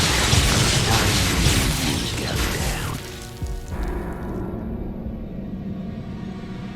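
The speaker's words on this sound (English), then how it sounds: "Explosion!" A spell explosion in the video game Hogwarts Legacy: a loud, broad blast that rumbles and crackles for several seconds, then decays into a lower rumble with lingering debris-like clatter.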